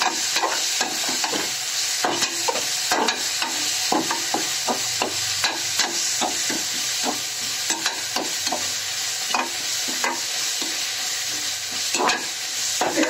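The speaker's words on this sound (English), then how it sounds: "Tomato get quick fried, and now going to add the 2 tablespoon of ginger onion garlic paste" Tomato and ginger onion garlic paste frying in a pan for a brinjal biryani, with a steady sizzle under repeated scraping and clattering strokes of a stirring spoon, close by and with no talk.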